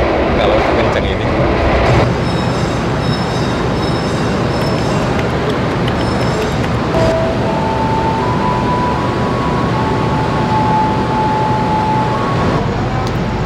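Inside a Singasari executive-class train carriage near the end door, loud continuous rumble and rattling roar of the moving train fill the space, with faint squealing tones over the top and a voice talking beneath the noise.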